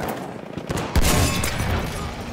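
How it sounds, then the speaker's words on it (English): Battlefield 1 gunfire in a team deathmatch, with scattered shots early and then a loud burst of rapid fire from about one second on that keeps going to the end. "Someone's shooting at me."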